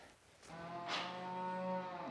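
A house cow on a family farm gives a long, drawn-out moo close by, the low harmonic call swelling and holding steady for over a second with no talk over it.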